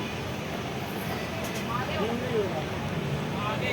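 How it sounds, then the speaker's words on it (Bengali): A passenger train pulls out of Asansol station with a steady, broad rumble of wheels and carriage noise, heard from on board, with a faint voice over it. "ট্রেন ছেড়েও দিয়েছে"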